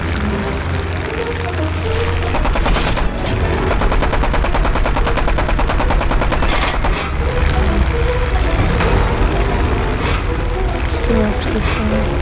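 Loud, continuous rattling bursts of aircraft machine gun fire in the combat flight game War Thunder, blended with a dense roaring engine drone, as a voice speaks over the sustained fire.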